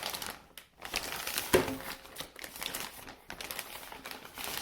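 Plastic Ziploc-style bag crinkling and rustling close by while a wired headset is pulled out, a steady run of crisp crackles with a sharper crunch near the middle.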